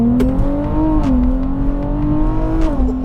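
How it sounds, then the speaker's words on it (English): A tuned 2024 Nissan Z Nismo accelerating hard in second gear, heard from inside as a loud, steady engine roar whose pitch rises, dips briefly at a shift or traction break, then climbs again, with no talking. "The rubber is a little warm, so we can try a second gear pull."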